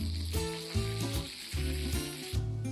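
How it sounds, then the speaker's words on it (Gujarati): Half a teaspoon of sesame seeds sizzles in hot oil alongside mustard seeds for a Gujarati handvo, a steady frying hiss beneath background music. "અડધી ચમચી તલ નાખી."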